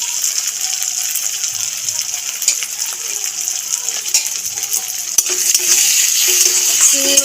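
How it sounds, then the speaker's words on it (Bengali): Prawns and onions fry in a pan while being stirred, a soft continuous sizzle with scraping and light clinks of the spatula, growing slightly louder toward the end. "চিংড়ি মাছটা সমেত পেঁয়াজটাকে আবার একটু নেড়ে চেড়ে ভেজে নেব।"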